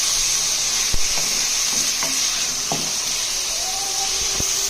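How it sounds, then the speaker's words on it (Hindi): Minced meat sizzles loudly in a hot karahi while being stirred, a close, steady hiss with scattered metallic scrapes and clicks from the spoon against the pan. "कीमा ऐड करने के बाद हम इसे स्टिर करेंगे। 10 सेकंड तक हम इसे इसी तरह चलाते रहेंगे"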